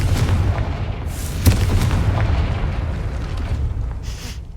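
A Confringo fire spell explodes in the video game Hogwarts Legacy, a deep rumbling boom with a sharp burst near the middle that rolls on as a dense, low roar, with no talking.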